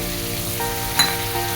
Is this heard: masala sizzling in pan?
yes